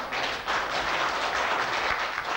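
An audience at a theatre show applauds a performer on stage, a sustained wash of many hands clapping at moderate distance, steady and unbroken throughout.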